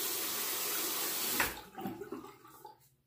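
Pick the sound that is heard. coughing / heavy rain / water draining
water draining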